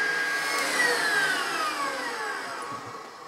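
Electric mixer whipping a meringue with sugar added slowly for a Bûche de Noël, a close steady high whir with shifting pitch that drones on alone without talk.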